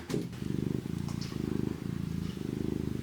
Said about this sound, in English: Did you hear their purring?